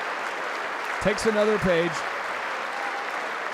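Steady wash of applause at the State of the Union address fills the whole stretch, with a voice talking briefly over it near the start.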